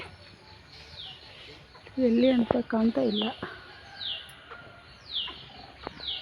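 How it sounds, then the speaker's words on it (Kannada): A ratan bird gives short, repeated descending chirps at intervals, moderately near. A person talks over the first few calls. "ರತನ್ ಪಕ್ಷಿ ಕೂತಿದೆ"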